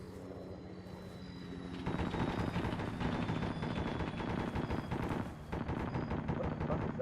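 An M2 heavy machine gun fires in Arma 3 in a long, continuous, heavy stream of rapid thumping rounds with one brief gap. Under it runs a steady engine-like drone.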